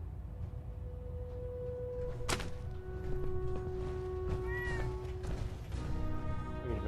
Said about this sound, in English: Oh, you're a kitty!